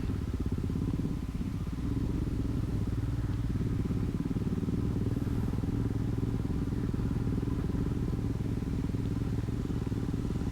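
A motorcycle rides steadily through a water crossing in Ladakh, its engine droning low and continuous for the whole stretch, close and fairly loud with churning rumble beneath.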